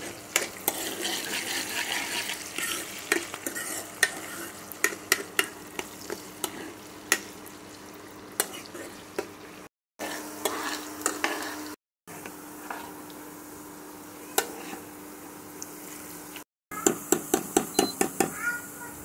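Onions and green chillies fry in a pan for a jackfruit seed curry, with steady sizzling and repeated sharp scrapes and clinks of a stirring spoon against the pan, up close, paused by a few brief silent gaps.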